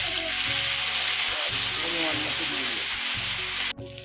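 Ginger garlic paste fries in white oil with panch phoron in a pan for spring roll filling, a loud close sizzle broken by rhythmic stirring scrapes before cutting off abruptly near the end.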